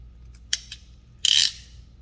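A ratcheting wire crimping tool for motorsports wiring clicks close up: two quick light clicks followed by a louder, denser burst of ratchet clicks that trails off, with no talk.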